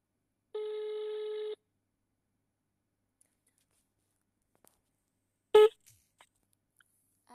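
A single electronic telephone ring tone sounds for about a second in a quiet setting in Ho Chi Minh City. Near-silence follows, broken by one sharp click and a few faint ticks.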